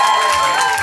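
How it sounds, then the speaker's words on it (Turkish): A crowd at a quiz night gives a short burst of applause and cheering as a team representative is called up, with a voice carrying over the noise. "F kareden bir temsilciyi alkışlarınızla buraya alıyorum."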